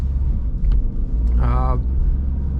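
Dacia Sandero Stepway 2023 with the 1.0 TCe 90 HP engine, still being run in, drones as a steady low cabin rumble while driving, with a brief voice-like tone rising in the middle of the continuous road noise.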